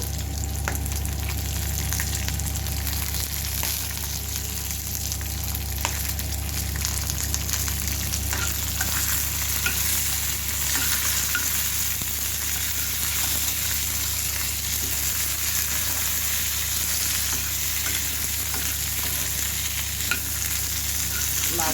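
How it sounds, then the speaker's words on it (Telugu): Slit green chillies frying in hot oil in a pan, a loud, steady, continuous sizzle close up with faint stirring, lasting throughout with no talk. "ఫ్రై అయ్యేటట్టు మనం వేయించుకోవాలి పచ్చిమిరపకాయలు"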